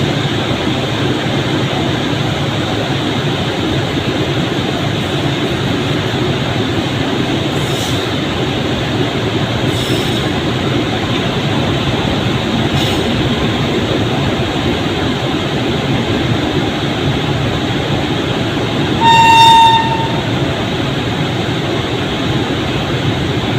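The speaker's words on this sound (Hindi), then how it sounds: "सामने से आ रही रेलगाड़ी को क्रॉसिंग देने के लिए यह ट्रेन इंतज़ार करती हुई।" Trains at a railway station during a crossing, a steady rumble of rolling rail traffic throughout with a few brief clanks and one short horn-like tone near the end.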